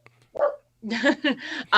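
A neighbor's dogs bark in a quick series of sharp, close barks and yips, with a short gap after the first bark.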